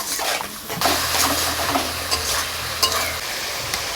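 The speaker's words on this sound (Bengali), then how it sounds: "জল দিয়ে একটু কষতে হবে।" Spiced fish curry base being stirred and fried in a pan with a splash of water, giving a steady wet sizzle with scraping stir strokes and clinks throughout, close and moderately loud.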